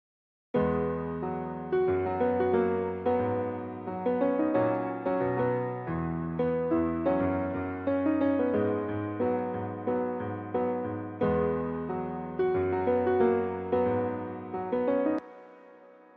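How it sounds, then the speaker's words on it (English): Piano part played on a MIDI keyboard through the Nexus plugin, a steady sequence of sustained chords with bright harmonics, played alone and cleanly before stopping abruptly. "So first I'm going to show you guys the piano."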